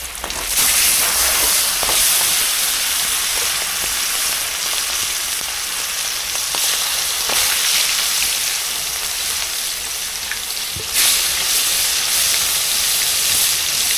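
Large pieces of rohu (mrigel) fish frying in hot oil in a wok, a loud, steady, crackling sizzle with spattering oil that runs without pause throughout.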